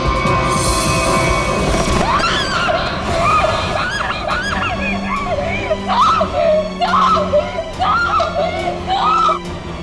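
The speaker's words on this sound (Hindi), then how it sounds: "इतनी जोर से क्यों चिल्ला रही है?" A woman screams loudly in a crime-drama scene: shrill, wavering cries repeat over a dense, noisy background.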